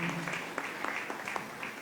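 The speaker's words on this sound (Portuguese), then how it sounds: "Vamos receber a nossa irmã então com salva de palmas, agradecendo a Deus pela vida dela." Congregation applause welcoming a visiting sister during a Sunday morning church service, a soft, fairly distant patter of scattered hand claps with faint voices underneath.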